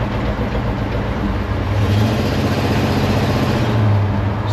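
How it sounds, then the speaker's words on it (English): A Ford F100 truck drives with its engine bucking, a steady loud rumble with an uneven, surging low drone and heavy road noise throughout. "it starts to just get a little buck nasty"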